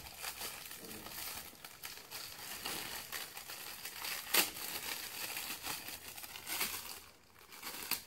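Plastic toy package being torn open, close crinkling and rustling with scattered sharper rips and crackles, fairly quiet and continuous.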